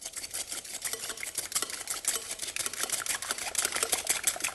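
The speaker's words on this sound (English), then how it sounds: "and whisk the eggs." Eggs are whisked by hand in a bowl, a fast, continuous run of light clicking strokes, close and fairly loud, with no talking.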